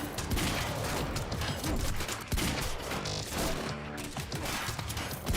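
Rapid bursts of gunfire from the Quantum Break video game crackle in quick succession with an odd, warped processing effect, dense and fairly loud, broken by a brief gap before the shots resume.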